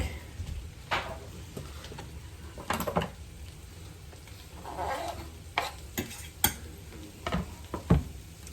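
Garlic in olive oil sizzling softly in a pan while a utensil stirs and scrapes, giving intermittent clinks and knocks over a low, steady fry.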